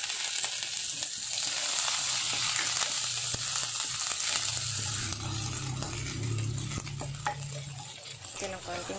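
Garlic, onion and ginger sizzle and fry in a pan, with steady crackling hiss throughout and occasional soft stirring scrapes.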